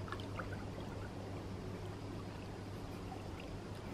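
Gin and water being poured into a glass for a drink: a steady, continuous liquid pour that runs unbroken at moderate level, with a low background hum beneath it and no talking.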